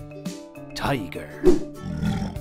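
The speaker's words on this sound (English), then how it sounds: "Tiger." A tiger's growling roar comes in brief bursts over soft musical tones, mixed with a voice.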